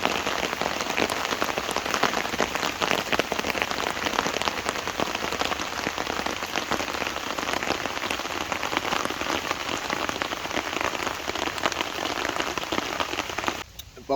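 Heavy rain drums steadily and densely on a Vango Nevis 100 tent during a wild camping rain test, a continuous loud patter with no letup until a brief drop at the very end.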